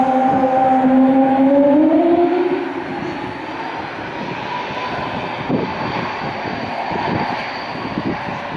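Airbus A220-300 engines in the flight game Infinite Flight give a steady turbine whine and roar, with a rising tone early that drops away into a quieter, even hum with faint clicks.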